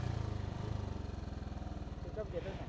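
A vehicle with a worn clutch plate strains on a ghat road, its engine chugging in a rapid, even pulse that fails to build speed. It sits fairly close at moderate volume, and a voice speaks over it now and then.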